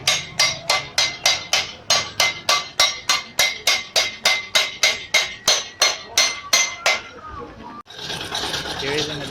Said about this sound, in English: So here's the body of a bus being modified. They're doing all the denting and everything.